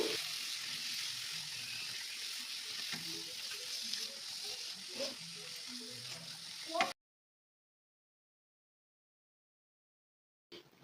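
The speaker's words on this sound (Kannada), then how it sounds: "ಇದು ಸ್ವಲ್ಪ ಆಯಿಲ್ನಲ್ಲೇ ಚೆನ್ನಾಗಿ ಫ್ರೈ ಆಗಬೇಕು." Ground coconut masala frying in a little oil for bisibele bath, a soft steady sizzle with occasional stirring for several seconds, then the sound cuts to silence.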